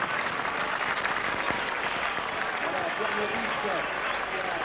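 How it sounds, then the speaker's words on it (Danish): A crowd applauding a cyclist at the Tour de France 1996, stage 11 from Gap to Valence, keeps up dense, continuous clapping throughout, while a commentator talks over it. "Og vi klapper af dig, Bjarne."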